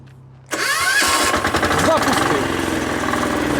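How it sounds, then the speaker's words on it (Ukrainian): A WEIMA diesel walk-behind tractor engine cranks and catches with a sudden loud burst, then settles into a steady rattling run close by, with someone speaking over it. "Декомпресор опустив"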